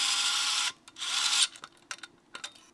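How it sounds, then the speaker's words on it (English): A Panasonic EXENA electric screwdriver drives screws, giving two long, close whirring bursts followed by several short, choppy spurts and ratcheting clicks. No voices are heard. "You're going to be able to run those screws in,"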